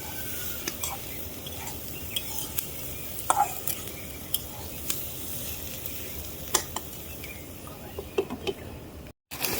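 Sliced snake gourd frying in a pan crackles with a steady, quiet sizzle, broken by occasional sharp clicks and scrapes of a spatula stirring against the pan.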